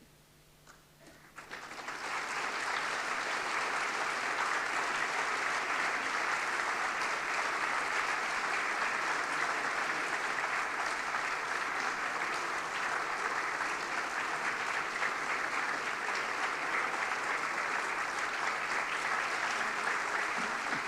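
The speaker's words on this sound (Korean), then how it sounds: "제가 교회에서 준비한 선물을 전달할 때 여러분 큰 박수로 격려해 주시고" A church congregation at a Christmas thanksgiving service claps steadily and loudly for retiring deacons and a senior deaconess receiving gifts, the applause swelling after a brief pause and continuing evenly.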